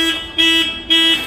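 A 2013–2014 Volkswagen Saveiro pickup sounds its horn in repeated pulsing honks, loud and close, with a steady buzzing tone rising and falling in a regular alarm-like rhythm.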